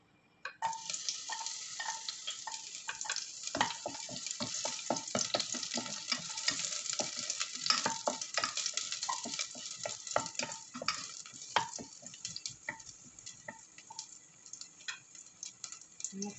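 Garlic frying in a pan for sweet and sour salmon, a steady close sizzle broken by frequent sharp spatula scrapes and clicks from stirring throughout.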